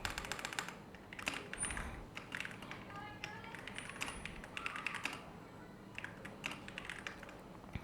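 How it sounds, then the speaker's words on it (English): Computer keyboard typing on a PC, quick quiet bursts of key clicks in irregular runs with short pauses, close and soft, no talking. "I'm just going to type in a song lyric"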